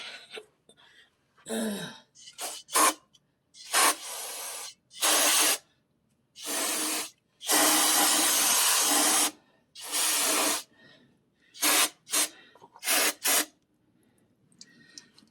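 Brake cleaner sprays in a series of loud hissing bursts while flushing old fluid from a rear differential, some short and some held for a couple of seconds, with pauses in between.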